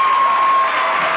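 A high school basketball crowd cheering and applauding after a breakaway dunk, a dense, loud, steady roar filling the gym for just over a second, with no talk over it.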